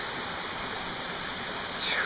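Steady broadband rush of a huge waterfall at Sandiaoling, heard from near its top, holding even and loud throughout with a brief high chirp near the end.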